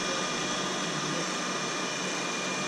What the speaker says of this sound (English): the fans sound a little like this